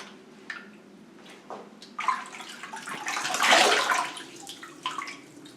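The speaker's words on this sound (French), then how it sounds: "c'est bon, on peut rincer" Tap water runs while a face is being rinsed, splashing in bursts that build to a louder gush midway and then ease off, close by with no talk.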